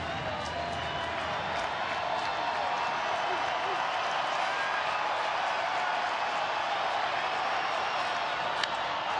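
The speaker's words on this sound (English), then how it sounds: "There's half the crowd that was here earlier, maybe, but still really loud" Loud baseball stadium crowd cheering in Philadelphia during a Houston at Philadelphia game in October 2009, a steady roaring wash of voices and applause that holds at full volume throughout.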